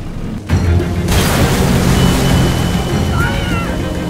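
Fire started by a flare gun in The Walking Dead video game, a loud sudden boom and then a continuous roaring rumble of flames. Voices may be faintly present.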